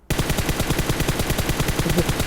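Rapid automatic gunfire in the mobile shooter game PUBG Mobile, a dense, steady burst of loud repeated shots starting abruptly and continuing without pause.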